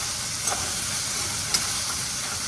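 Pumpkin greens frying in hot oil make a bright, hissing sizzle that holds steady throughout, with a couple of soft taps of a spatula and no voices.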